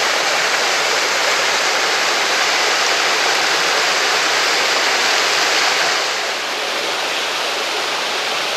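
Rushing water from a waterfall on the Blue Mountains cliff top walk makes a constant loud hiss and roar that eases a little near the end, with no talking heard.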